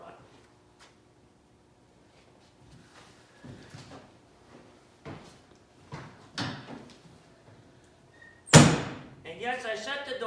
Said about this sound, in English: cars start better when you shut the door